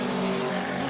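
A Cooper racing car engine, driven in a race on a track and overtaking a BRM, drones loud and steady throughout, with no pause in its note.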